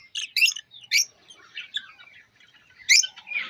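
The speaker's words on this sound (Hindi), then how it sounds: "उनकी आवाज़ अच्छी लगती है, खूबसूरत लगती है, उनका चहचहाना" Caged pet birds chirp in a scatter of quick, high tweets and short trills, several separate bursts at moderate distance with quiet gaps between them.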